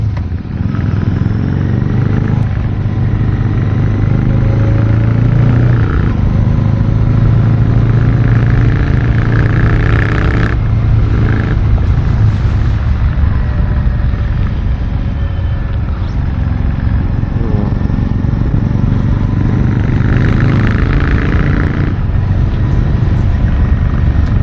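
A Royal Enfield Classic 650 motorcycle with twin exhausts, one on each side, riding on a mountain road, its engine droning loud and steady throughout with occasional shifts in pitch as it accelerates.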